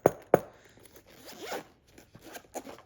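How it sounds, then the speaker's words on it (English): Zipper pulled open around a hard case for a turntable cartridge alignment kit: two sharp clicks to start, then a scratchy run of teeth with a few trailing tugs, close and clear with no voices. "Easy to open with the zipper."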